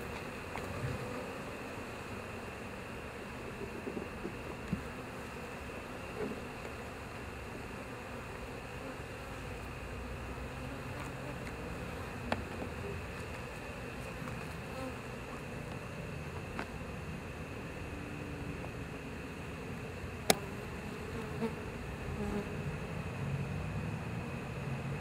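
Honeybees hum in a steady, dense drone around an open Canadian hive at a honeybee centre, with occasional closer buzzes and small clicks over the continuous swarm.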